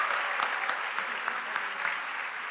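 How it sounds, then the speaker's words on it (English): Audience applauding award winners at a high school academic awards ceremony, steady dense clapping throughout, moderately distant with no talk over it. "Let's give a round of applause for our Kalamazoo County Excellence in Education winners"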